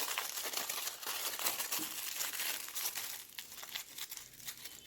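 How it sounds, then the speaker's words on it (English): Aluminum foil crumpled and crushed by hand up close, with continuous crisp crinkling and crackling at a steady, busy pace. "crush the aluminum foil"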